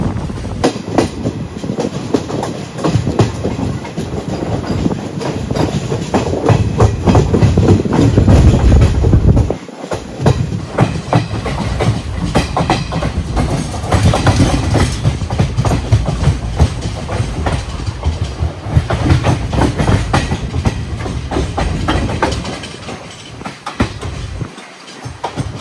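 Train running on the railway line toward Goa near Karwar, a loud, steady rumble with rhythmic clickety-clack of the wheels over the rails, close and continuous with brief dips.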